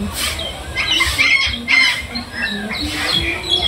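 Loud harsh squawking calls from a peacock nearby in an aviary, several raucous bursts in quick succession over rustling background.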